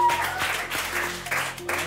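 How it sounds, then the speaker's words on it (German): A studio audience on a cooking show applauds Ryan, a steady wash of clapping with a faint electronic tone running beneath and a possible voice mixed in. "Ein Applaus für den Ryan."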